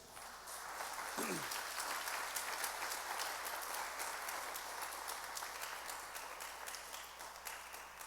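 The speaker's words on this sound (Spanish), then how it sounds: "¿Cuánto le damos un aplauso a ese Dios?" A church congregation applauds during a sermon, a steady, fairly full crowd clapping that holds evenly for several seconds with no voices over it.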